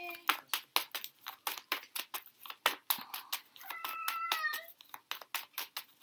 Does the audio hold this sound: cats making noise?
yes